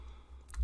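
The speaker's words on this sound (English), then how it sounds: "So we do that by typing in npm" A few keystrokes on a computer keyboard as a terminal command is entered, ending in a firmer tap like a key press, close and fairly quiet with no talk.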